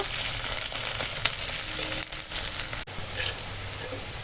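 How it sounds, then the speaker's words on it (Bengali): Onions and green chillies fry in hot oil in a home kitchen, giving a steady close sizzle with faint stirring scrapes and no voices. "এখন পেঁয়াজ কাঁচা লঙ্কা আগে ভেজে নেব"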